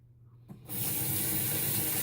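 Water starts running from a bathroom tap after a brief pause and keeps flowing steadily into the sink, close and loud, while hands and face are wetted before a shave.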